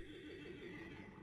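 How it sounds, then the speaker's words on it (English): A creature in the underwater survival game Subnautica lets out a horse-like neigh, a single wavering whinny heard close and fairly loud over a steady underwater ambience. "Sounded like an underwater horse."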